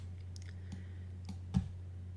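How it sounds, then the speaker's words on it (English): Several light clicks of a computer keyboard as the X key is pressed while working in an image editor, sparse and close against a steady low electrical hum, one tap noticeably louder than the others. "I just switch back to black by pressing the letter X on my keyboard."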